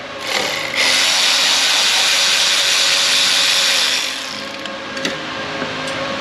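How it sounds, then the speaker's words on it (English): Removing a brake caliper bracket bolt, most likely with a power tool: a loud, steady whirring burst lasting about three seconds, then quieter mechanical rattling and a couple of sharp clanks, with no talk. "Let's pull the bolt out."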